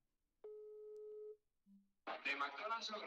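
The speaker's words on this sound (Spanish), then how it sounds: "Le vamos a llamar por teléfono." Telephone line tones sound while a call is placed: a steady beep lasting about a second is followed by a short lower tone, and then a voice begins talking over the line.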